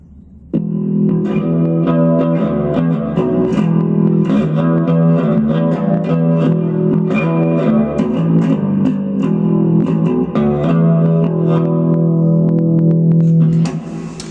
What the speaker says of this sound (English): hall reverb, which is always really nice